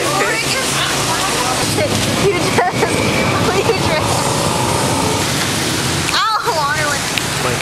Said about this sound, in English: Dang, it's raining too hard.